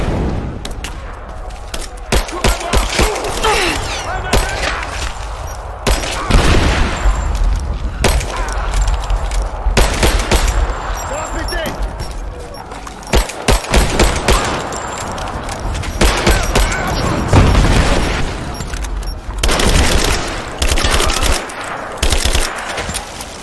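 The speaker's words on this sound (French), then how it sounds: "On me tire dessus." Gunfire in the video game Rise of the Tomb Raider, with bursts of automatic fire and scattered shots running steadily through a loud, busy battle mix and no talking.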